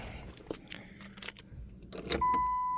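Car keys jangle briefly inside a 1991 Dodge Caravan left abandoned since 2005, a few light metallic clinks, followed by a steady electronic chime tone from the dashboard.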